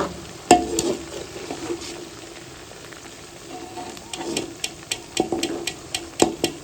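Okra (bhindi) frying in a pan with spices, stirred by a spoon that lands several sharp scrapes and taps against the pan over a low, steady sizzle, close by with no talk.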